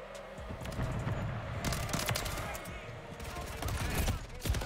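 Bursts of rapid SMG fire in Modern Warfare 3 multiplayer, several quick volleys in a row, punchy and fairly loud, with game effects around them.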